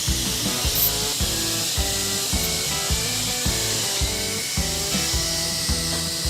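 CNC plasma cutter slicing steel floor strips for a Hoonicorn replica car, a loud continuous hissing roar with a regular chugging pulse about every half second as the machine runs its program.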